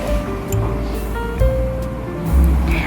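Water tipped into a pan of frying spices for a Bengali dried ribbonfish and snake gourd curry, giving a few loud splashy hissing bursts over a steady cooking rumble, close up.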